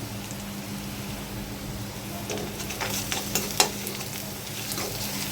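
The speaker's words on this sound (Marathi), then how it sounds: "कांद्याबरोबर थोडा लसूण फ्राय करून घ्यावा." Onion and crushed garlic frying in a pan for a Maharashtrian methi bhaji lunch, a steady close sizzle with a few soft stirring clicks and scrapes, no talking.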